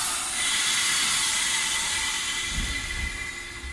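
A JR 115 series electric train in the first Nagano livery pulls out of Komoro station, a broad steady hiss and rumble that fills the platform and then slowly eases as it moves off.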